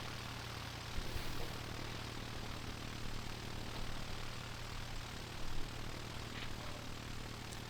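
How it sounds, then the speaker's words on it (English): Propeller airplane engine in an air traffic control simulation game, a steady low droning hum at moderate distance with a faint background hiss and no talk over it. "So this plane should land and then wait."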